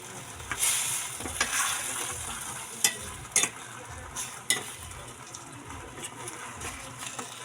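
Talbos and saluyot greens with Century Tuna being stirred in a pan, a steady soft sizzle broken by several sharp scrapes and clinks of the utensil, close and moderately loud with no talk.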